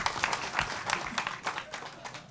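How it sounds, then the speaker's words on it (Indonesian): An audience at a lecture bursts into brief applause, dense rapid clapping from many hands filling a room for a couple of seconds. "Sip, tepuk tangan."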